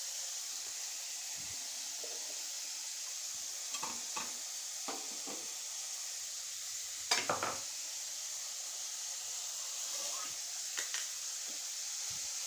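Cabbage, carrot and beans sizzling in a little oil in a nonstick pan, a continuous soft frying hiss with occasional scraping stirs and clinks of a utensil, no talk.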